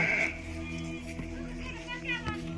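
A herd of goats drinking water in the open countryside bleat repeatedly in a continuous, overlapping chorus, with people talking faintly in the background.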